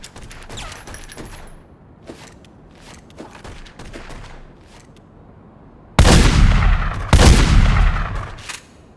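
Gunfire from a gun in The Godfather video game: scattered, fairly quiet shots give way to a loud, sustained burst of rapid fire over the last few seconds.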